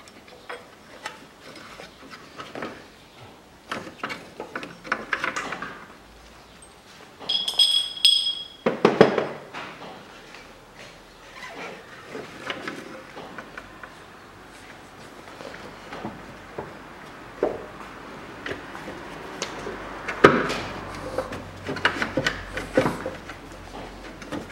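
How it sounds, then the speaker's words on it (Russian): Hand tools working on the timing gear of a 2008 Chevrolet Lanos while the camshaft gear bolt is loosened and the gear removed, giving scattered close metallic clinks, ticks and a ratchety burst, with quiet pauses between. "Откручиваем болт распредвала шестерни. Снимаем шестерню."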